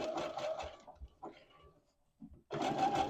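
A sewing machine runs a wide, long zigzag stitch in short bursts, with a rapid rhythmic chatter at the start, pauses and soft handling noises, then stitching resumes.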